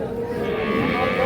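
A Holstein Friesian cow lows at a busy cattle market, a single drawn-out moo held steadily over a constant din of crowd noise.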